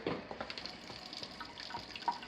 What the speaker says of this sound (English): We got cold water, but no hot water. Let's just let that run for a minute.